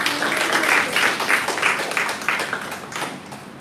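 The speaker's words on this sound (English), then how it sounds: "Clap hands." An audience at a school speech event claps, a lively patter of many hands that swells, then thins out over a few seconds.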